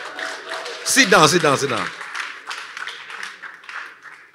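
A church congregation at a manhood service claps in a short burst during the sermon, with the preacher's voice speaking over the applause before it fades under continued talk.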